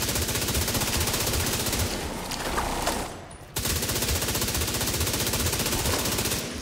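Sustained automatic gunfire in a looter shooter video game, dense rapid bursts running nearly nonstop at close range, with a short lull near the middle before the shooting resumes.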